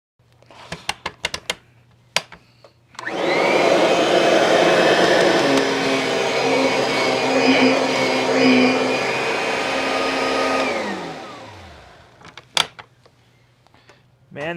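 A Kirby Sentria vacuum cleaner, freshly repaired, is switched on and runs with a loud, steady whine for several seconds, then winds down, with scattered clicks and knocks of handling before and after.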